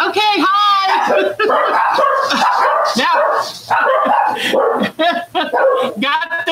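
A dog barks and yips loudly and close by in a busy burst of repeated calls, with a whimpering, whining edge, over a person talking during a live quilting stream.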